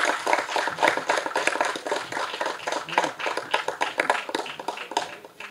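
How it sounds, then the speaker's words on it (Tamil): Scattered audience clapping at a Tamil movie audio launch event, uneven and rhythmic individual claps of moderate loudness rather than a full dense ovation, lasting several seconds with no talk. "உங்களுடைய கைத்தட்டல்."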